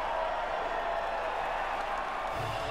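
A podium crowd in the racing game F1 2019 cheers and applauds as a broad, steady roar, distant and even throughout with no distinct peaks.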